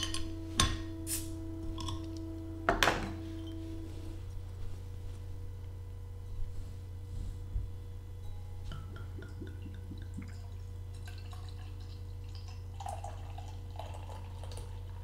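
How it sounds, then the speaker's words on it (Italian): An imperial stout with coconut flakes is opened and poured into a branded snifter glass indoors, giving faint drips and liquid trickles over a steady low hum, with a couple of sharper clinks early on and no talking. "direi che possiamo aprire la bottiglia"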